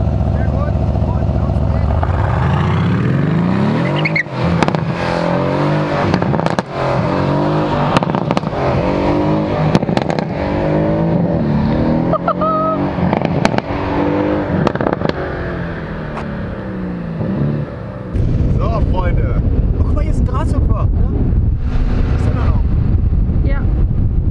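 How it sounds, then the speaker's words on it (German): A Mercedes-AMG C63 S roars loudly up close through repeated revs and accelerations, with sharp exhaust cracks and pops, buffeting wind noise and occasional voices in the background. "Und ich hoffe, euch hat der Sound hier vom C63S gefallen."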